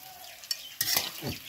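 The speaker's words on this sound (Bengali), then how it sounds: "সেই তেলে দিয়ে দিব কেটে রাখা পনির" Short bursts of sizzling oil as cut paneer pieces fry, with a stirring scrape, loud and close, in quick uneven spurts.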